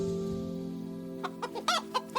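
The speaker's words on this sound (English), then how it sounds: "Chickens play their part in the process" Chickens clucking in short, separate bursts during the second half, helping with traditional rice processing by hand with stones and wood in a mountain village; a steady low hum runs underneath.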